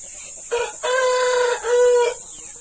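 Chickens on a small farm, with a rooster crowing loud and close in two drawn-out calls over a steady high background buzz.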